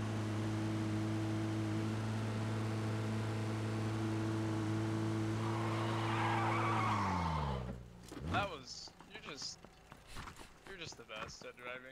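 A car in PUBG races in with a steady engine drone, then skids hard with screeching tires before the motor cuts out, followed by scattered clatter and talk.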